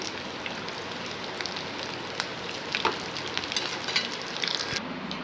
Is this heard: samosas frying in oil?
yes